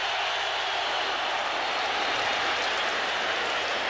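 Stadium crowd at a 1995 NFL football game, Chargers at Colts in Indianapolis: a dense, steady roar of many voices holds at constant loudness for the whole stretch, with no single voice standing out.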